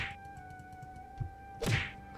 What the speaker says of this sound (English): Damn, I like this sword.